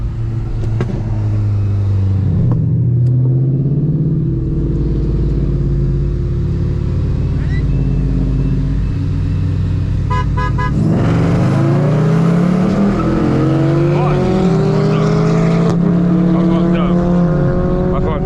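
A Lexus LS400 and a VW GTI race, engines droning loudly and close throughout, with revs climbing sharply through a gear change partway in; voices are heard briefly over the engine noise.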